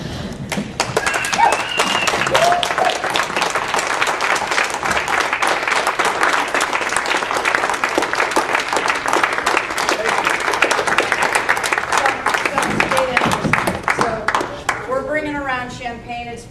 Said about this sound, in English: I'm going to ask everyone to stand up and give Steve Reynolds a round of applause.